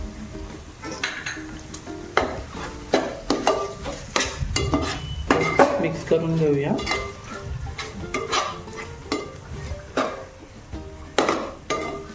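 Onion, tomato and ginger-garlic paste sauté in a pan for pav bhaji while a spatula repeatedly scrapes and clinks against the metal, quiet sizzling underneath, close up and irregular in rhythm.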